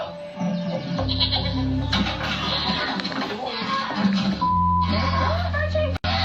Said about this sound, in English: They're milking goats.